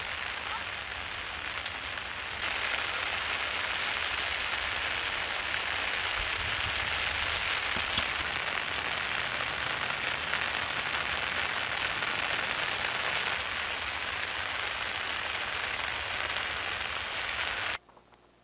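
Steady hiss of the first real rain falling on surfaces at Hazelmere Dam, even and continuous throughout, fading out abruptly at the end.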